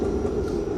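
Brief steady rumble of a train in Toronto, a close, continuous low drone with a hint of wheel noise, no talking.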